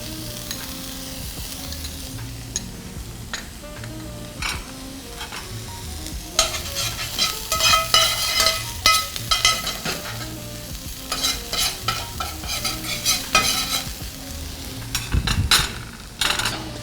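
Onion and garlic fry in a little oil in a pan for a seafood gnocchi, a close steady sizzle broken by repeated scraping and stirring clatters that grow busier partway through, with no speech.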